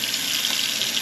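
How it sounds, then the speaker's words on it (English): Water runs steadily from a tap into a sink as it fills, a continuous close, fairly loud splashing hiss with no pauses or talk. "Water waiting for this thing to fill up."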